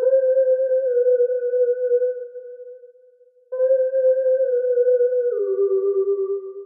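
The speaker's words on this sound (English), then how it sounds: "This is a sound that's called Resonating Lead." A Resonating Lead synth patch on an X-Band keyboard plays sustained, ghostly tones with a steady hollow pulse, holding one note, briefly fading to near silence, then returning and stepping down in pitch.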